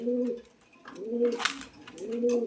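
Pigeons coo at a nest with chicks, making three soft, low, rounded coos spaced evenly and close by, with faint rustles between them.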